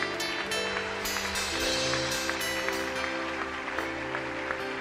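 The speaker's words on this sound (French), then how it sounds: "Nous apprécions ce moment par nos acclamations." A church congregation applauds and cheers during a worship service, a dense, steady wash of clapping layered with sustained music tones and crowd voices throughout.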